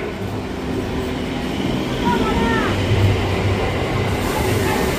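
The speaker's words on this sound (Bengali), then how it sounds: "Down train Krishnanagar local Sealdah যাওয়ার গাড়ি 2 নম্বর প্ল্যাটফর্মে আসছে।" A Krishnanagar–Sealdah local train rumbles steadily alongside platform 2 at Dum Dum station, with a brief wheel squeal and a station announcement voice over the noise.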